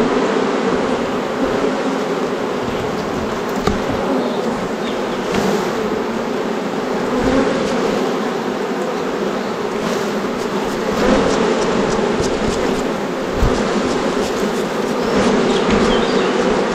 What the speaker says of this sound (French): là on a une grande vivacité dans cette ruche